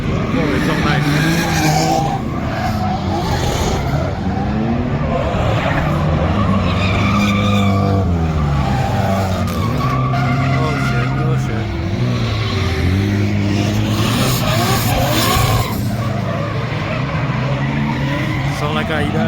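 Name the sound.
drift car engine, Nissan RB or similar, with tire squeal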